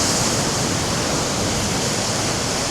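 Ocean waves and surf make a dense, constant roar of broadband noise on the shore, loud and unbroken throughout with no voices.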